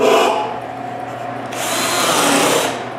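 A power drill runs in two short bursts, whining as it drives screws into a plywood jig, with the motor pitch rising in the second run, close and loud.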